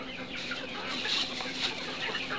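Chickens on a poultry farm cluck and squawk in a steady, overlapping chorus at moderate distance, with no voices over them.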